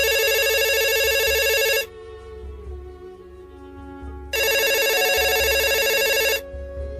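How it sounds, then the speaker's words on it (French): Telephone ringing loudly and close, two long bursts of trilling electronic ring separated by a quiet gap of about two seconds, with no talk. "le téléphone de Emma Loès sonna"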